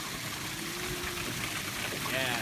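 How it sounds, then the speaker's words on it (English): Water runs steadily from a ball valve into a tank for bulk filling, a constant close hiss and trickle throughout with faint bits of voice underneath. "So let's go ahead and let the water run."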